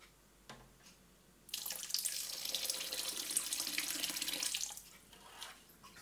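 Water runs steadily from a tap for about three seconds, adding to an absinthe mixture being diluted to 70 liters before distillation; a moderate, even gush that starts abruptly and then stops.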